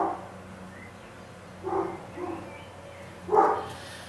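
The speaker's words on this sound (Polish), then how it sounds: "Jest okno otwarte, pewnie coś na dworze zaszczekało." Watson, a dog, gives three short, separate barks at moderate loudness over a quiet background hum, with pauses between each bark.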